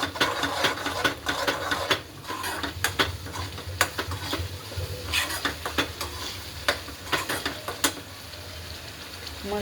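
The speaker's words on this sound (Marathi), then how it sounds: "तसं भाजून घ्यायचं आहे आपल्याला छान असं भाजतंय तेल सुटोसं भाजून घ्यायचं" Finely chopped tomato sautéed in oil in a pan, a continuous close sizzle broken by frequent scraping strokes of a spatula stirring, steady and moderately loud throughout.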